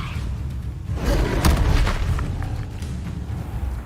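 A Levioso levitation spell cast in the Hogwarts video game, a deep booming whoosh that swells near the middle and fades, with faint rumble underneath.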